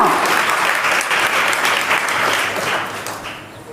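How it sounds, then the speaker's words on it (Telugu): A church congregation at a sermon on fasting breaks into loud, dense applause that holds steady and then begins to fade toward the end. "అందరం గట్టిగా చప్పట్లు కొడదామా?"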